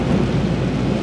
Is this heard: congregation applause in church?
no